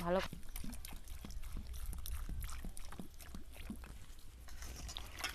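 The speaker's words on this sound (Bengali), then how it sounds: "এবার আমগুলো আমি ভালোভাবে পরিষ্কার জলে ধুয়ে নেব" Cut raw mangoes being washed in clean water, with steady sloshing and trickling and a run of soft splashes and knocks at a regular pace over a low background hum.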